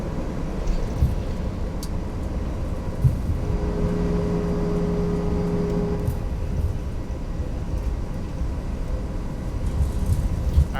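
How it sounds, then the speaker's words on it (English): An Airbus A319 taxiing in X-Plane 11, with a steady low rumble of wheels rolling and engines idling throughout, plus a brief faint tonal hum in the middle. "Even got the roll sounds too."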